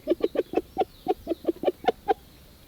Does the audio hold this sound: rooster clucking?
yes